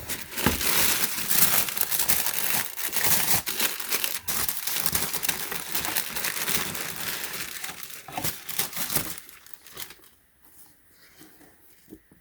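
Packaging from a box of Vans Old Skool LX shoes is opened up close, with dense, busy paper crinkling and rustling that continues for most of the clip before dropping to quiet handling near the end.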